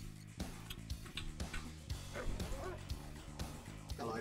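Dogs in Command & Conquer: Red Alert bark in a quick run of sharp yaps and yips, close and loud, over busy game music and battle sounds.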